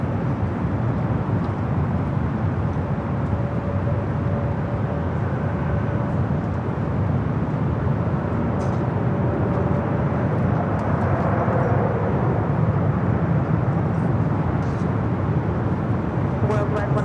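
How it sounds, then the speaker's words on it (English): A Gulfstream 4 business jet arriving at LAX from Van Nuys, heard as a continuous broad engine roar that swells slightly midway, with a faint tonal whine and scattered ticks. Airport radio chatter runs over it. "Gulfstream 4. Gulfstream is coming in from Van Nuys."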